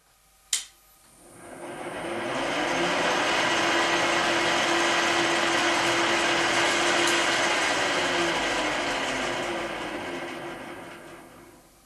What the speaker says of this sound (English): And now we drill a hole to there.